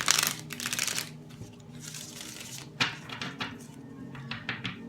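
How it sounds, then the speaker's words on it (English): Tarot cards are shuffled by hand in a run of crisp, papery riffles and flutters, loudest at the start and then continuing in shorter bursts, close and alone. "One last shuffle for Libras for October, November, and December"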